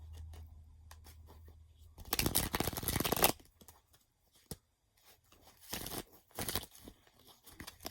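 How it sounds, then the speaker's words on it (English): Tarot cards are shuffled at close range in quick, crisp bursts of riffling and flicking, with a long loud run in the middle and shorter bursts later, separated by quiet gaps. "I get 3 more shuffles. Just a quick shuffle."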